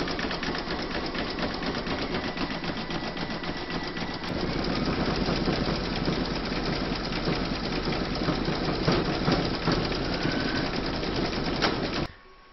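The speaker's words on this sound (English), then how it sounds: "pop this into your machine and stitch round number four" An embroidery machine stitches a round of a Celtic topper, a fast, steady mechanical needle rhythm that runs loud and close almost unbroken for about twelve seconds before cutting off.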